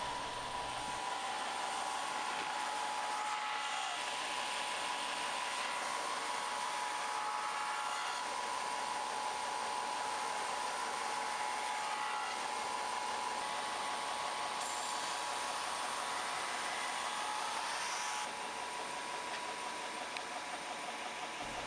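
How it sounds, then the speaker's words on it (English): A belt sander strips paint, running as a loud, continuous whirring grind with a steady motor drone that holds for over twenty seconds, with slight changes in pressure and no speech. "to get some really quick results, we use the belt sander"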